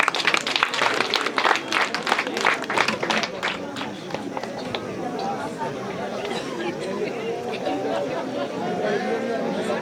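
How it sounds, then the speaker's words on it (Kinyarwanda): Wedding guests clap their hands in a loud, dense burst of applause for the first few seconds, then it gives way to steady crowd chatter and talking in the hall. "duhuze ibiganza dukoma amashyi arenze kuri ayo"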